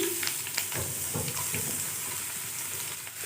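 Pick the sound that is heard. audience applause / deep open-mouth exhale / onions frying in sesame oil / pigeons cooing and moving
onions frying in sesame oil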